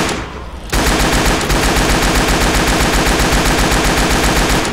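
Continuous rapid automatic gunfire from the zombie shooter game Left 4 Dead 2 hammers away loud and close, following a brief quieter moment at the start, with no speech over it.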